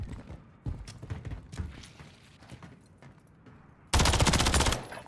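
SMG gunfire in the shooter Gunfight, a loud, rapid automatic burst close by near the end, after quieter scattered footsteps and game noise.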